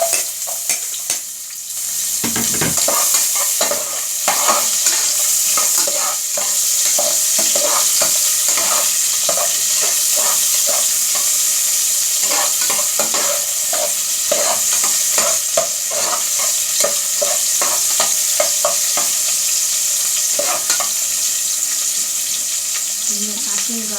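Onion frying in oil in a pot gives a loud, steady sizzle with crackling bursts and occasional stirring clatter, close up and continuous throughout.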